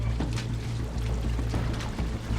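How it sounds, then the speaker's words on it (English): Seawater gushing up through an opened floorboard into a leaking sailboat at sea, a steady loud rushing pour with splashy bursts and a low rumble throughout. "I opened up the floorboard, and it just came pouring in."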